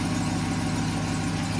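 A supercharged 6.2 liter Hellcat V8 in a 2022 Ram 1500 TRX crew cab truck idles steadily, a close, loud, even low rumble with no one talking over it.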